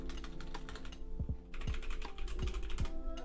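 Commands are typed on a computer keyboard, with quick bursts of crisp, close key clicks, a brief pause, and then more rapid clattering keystrokes.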